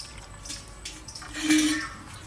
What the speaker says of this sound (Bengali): এইটা একটু জল দিয়ে একটু ধুয়ে দেবো